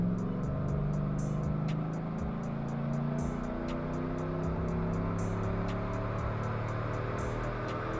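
A Summit Racing 450-horsepower 5.3 long-block V8 in a truck roars steadily on a dyno, its drone sweeping upward in pitch across the pull, loud and continuous with no talking.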